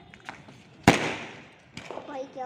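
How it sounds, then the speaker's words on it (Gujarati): A single sharp firecracker bang cuts through background chatter, its crackle fading over a second before a second, softer pop follows. "ફટાકડા ફોડી લીધા ફટાકડા પૂરા થઈ ગયા"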